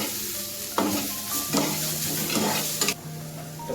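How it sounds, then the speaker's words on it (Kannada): Garlic frying lightly in a little oil in a pan for a diet meal, a steady soft sizzle with a few stirring scrapes, close and moderately quiet. "ಆಯಿಲ್ ಲೈಟಾಗಿ ಫ್ರೈ ಮಾಡ್ಕೋಬೇಕು"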